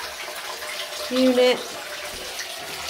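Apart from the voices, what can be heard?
bathroom sink tap running water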